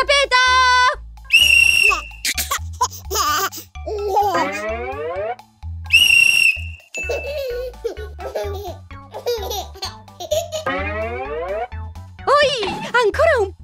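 A police-style whistle blown by a cartoon character in an animated children's show about laughing babies, heard as short shrill bursts among excited character voices, babbling and baby laughter over background music.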